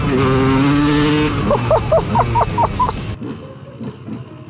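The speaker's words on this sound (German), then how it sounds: "Zweitakt, 40 PS oder so und der Sound ist halt göttlich" Two-stroke motorbike engine of about 40 hp at full throttle, a loud, close, buzzing howl that climbs through a few sharp rising revs and then cuts off abruptly to a quieter tail.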